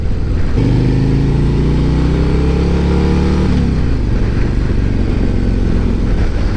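A 2024 Harley-Davidson Road Glide V-twin cruiser motorcycle rumbles steadily while riding, loud and close throughout, with the engine note rising and then easing off partway through.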